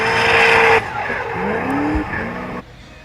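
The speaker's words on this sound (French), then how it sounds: "Encore un bruit typique du compresseur." A loud Nissan S15 drift car engine with compressor whine roars and revs with tire squeal, its pitch sliding as it passes, then drops away to a quieter distant drone.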